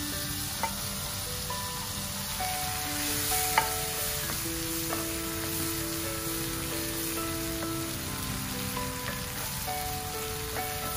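Garlic butter shrimp sizzle and fry steadily in a pan over high flame, a dense continuous crackle with a few brief clinks or taps, no talking.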